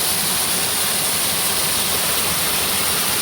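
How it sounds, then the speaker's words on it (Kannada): Water rushing at a waterfall, flowing only lightly in a low season, making a steady, dense roar with no break, close and fairly loud, and no voices over it. "ಇಲ್ಲಿ ನೀರು ಹರಿತಾ ಉಂಟು"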